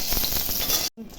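Dry chilli and cumin hit hot oil in a kadai for a Bengali dal tempering, giving a loud, steady crackling sizzle that cuts off abruptly near the end, then resumes faintly.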